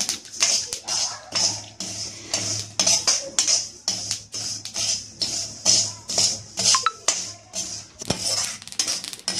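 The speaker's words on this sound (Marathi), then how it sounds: "तुम्ही पाहू शकता असा चुटचुट आवाज जर जोरात यायला लागला की आपली तीळ भाजली अशी समजायची" Sesame seeds dry-roast in a pan without oil, giving sharp irregular crackles and pops with clinks of stirring throughout.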